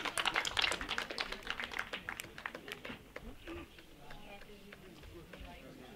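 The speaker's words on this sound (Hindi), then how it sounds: "एक बार उनके लिए भी जोरदार तालियां होनी चाहिए।" At a film premiere, scattered audience claps ring out sharply at first, then thin into sparse, fading taps, with quiet murmur behind.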